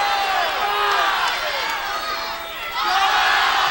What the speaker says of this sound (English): Now the crowd is cheering.